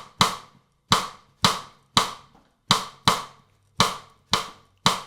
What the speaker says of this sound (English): So this is called a 2-3 clave